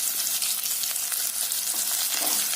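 Garlic and dried red chillies sautéing in hot oil for a millet rice-and-dal dish, a loud, dense, continuous sizzle with spatula stirring scrapes throughout, close and alone without talk.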